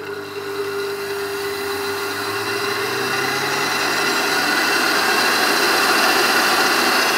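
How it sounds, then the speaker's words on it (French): A food processor whirring steadily as it blends olive oil with garlic for a Provençal bourride, a continuous loud motor drone with a grinding buzz that holds throughout without talk. "maintenant on va passer au robot"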